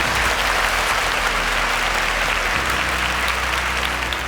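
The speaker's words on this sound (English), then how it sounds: "Round of applause." Steady, dense applause from a quiz show audience fills the whole stretch at an even, full level, with no talk over it.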